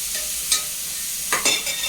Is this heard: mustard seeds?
yes